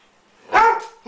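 A hungry pet dog gives a single loud, close bark just before its dinner, a short sharp burst standing alone in an otherwise quiet room.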